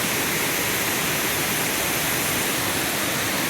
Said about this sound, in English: Oh, I love baby trickling waterfalls.